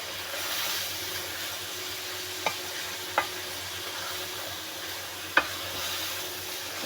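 Mutton frying with garlic and ginger in a pot, a steady broadband sizzle with occasional sharp clicks of a utensil stirring, fairly quiet and without voices.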